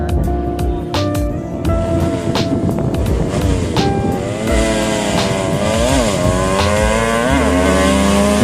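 A 130cc open-valve drag race motorcycle engine screams at very high RPM, loud and close, with rapid rising and falling rev sweeps that continue throughout without pause.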